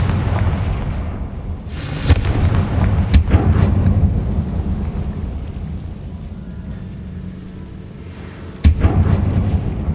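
Confringo spell explosions in Hogwarts Legacy on PS5, with loud booming blasts that rumble and decay, one around the middle and a sharp heavy burst near the end, over a constant low game backdrop.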